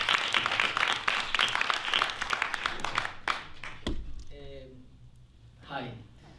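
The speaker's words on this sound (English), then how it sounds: "they deserve a big round of applause" Audience clapping for performers at an arts event, a brisk burst of applause that fades out midway, followed by a voice speaking.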